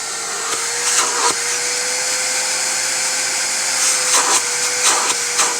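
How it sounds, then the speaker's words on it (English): A vacuum cleaner runs steadily with a loud, constant whine, broken by a few brief bumps and clicks as the nozzle catches on a loose piston inside a Briggs & Stratton 23hp Intek engine with a broken connecting rod. "I'm going to go ahead and get a vacuum cleaner and try to suck that piston out"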